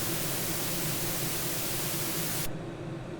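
A steady hiss of broadband dithered digital noise fills the sound evenly, then its high, bright part abruptly cuts out, leaving a duller, softer hiss.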